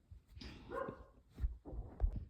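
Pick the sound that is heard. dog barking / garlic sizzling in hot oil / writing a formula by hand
dog barking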